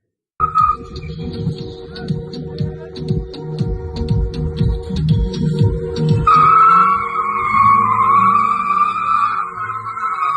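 Rented cars drift on a road, tires skidding in long squeals and sliding screeches over rough engine and road noise, ending in a sustained high-pitched tire squeal.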